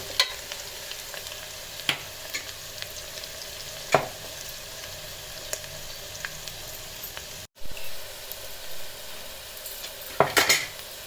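Onions frying in a pan for a mutton curry, a soft steady sizzle with occasional sharp clinks and scrapes of a utensil stirring against the pan, fairly close and with no voices.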